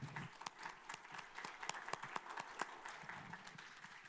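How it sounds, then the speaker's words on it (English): Applause from a conference audience for the speakers after an international politics session in Ankara, steady scattered clapping that runs for the whole stretch at a moderate distance. "Please join me applauding our wonderful speakers."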